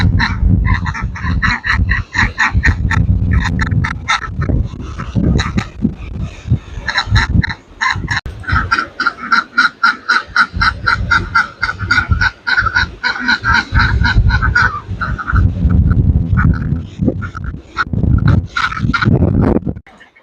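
Ducks and geese on an Irish smallholding after a storm keep up a loud, close chorus of overlapping honks and quacks, a dense and continuous racket across the whole stretch.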